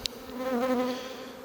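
Honeybees buzz close by around a hive in a brief, droning hum that rises and fades within a second or so.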